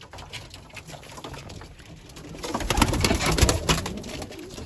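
A young Mardin smoky tumbler pigeon is handled and gives soft coos and a flutter of feathers close up, with a rising rustle midway and no talking.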